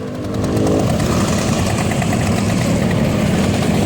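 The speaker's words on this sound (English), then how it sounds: "Oh, the two-stroke, that's horrible." A small two-stroke motorbike engine revs up and holds a loud, buzzing, rattly drone close by, steady throughout with no talking.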